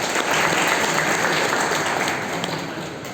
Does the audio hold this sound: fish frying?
no